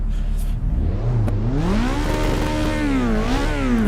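A race car engine in the Assetto Corsa EVO racing game revs up from idle, climbing to a loud, buzzing high-pitched whine, then rising and falling with gear changes and throttle blips, close and dominant.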